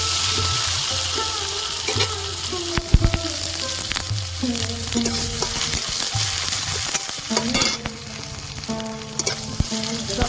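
Vegetables sizzle and fry in a pan for Bengali vegetarian cooking, a steady hiss broken by repeated scraping clatter of stirring, close and moderately loud with no talk.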